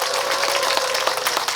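A congregation claps at an outdoor Monday Mass held for Saemangeum seawater circulation and ecological restoration, a brief dense burst of applause with a steady hum running underneath.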